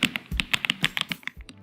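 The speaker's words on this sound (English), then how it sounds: "The keyboard just sounds amazing, just take a listen." Typing on a Royal Clutch retro-style keyboard, a quick irregular run of crisp, close clicky keystrokes with no talking.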